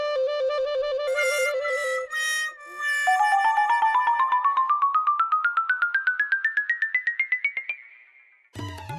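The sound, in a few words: doorbell ringing repeatedly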